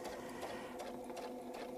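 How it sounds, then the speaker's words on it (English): A sewing machine stitching a quilt along a template, a steady even mechanical whir with a fast needle rhythm, close and alone. "We're going to stitch across until our foot touches the template and follows the template round."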